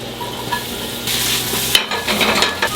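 Garlic sizzles in a hot pan on the stove while being stirred, a loud continuous frying hiss with scraping stir noises and a clink of cookware, close up and without talk.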